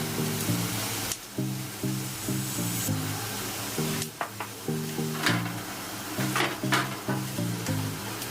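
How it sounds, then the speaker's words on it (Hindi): Cumin seeds sizzle in hot oil for a tempering while making tomato and peanut chutney, a steady crackling hiss that stays loud and constant behind a looping rhythmic background tune. "जीरा का तड़का देती हूँ।"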